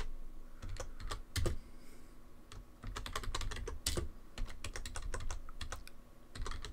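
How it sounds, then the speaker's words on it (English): Fast typing on a computer keyboard while filling in an online wish list, dense irregular key clicks close up with short pauses between bursts, no talking. "terrible typing for a second"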